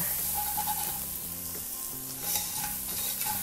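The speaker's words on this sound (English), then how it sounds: "I'm just gonna add that in there and give it a stir. And look, the onion is already turning nice and brown." Garlic and onion fry in a pan for a Polish turkey dish, giving a steady close sizzle with soft stirring movement, while quiet background music plays underneath.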